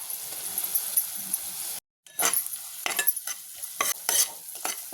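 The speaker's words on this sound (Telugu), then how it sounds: "ఒకసారి అంతా ఇలా ఫ్రై చేసుకుందామండి." Onions fried with turmeric and salt in a pan, a nearby sizzle broken by a brief silent gap, then repeated clinking spatula scrapes against the metal, with no talking.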